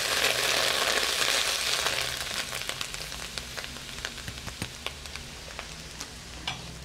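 Soy chunks frying in a pot of hot oil, a loud steady sizzle that settles into softer crackling with scattered sharp pops close by.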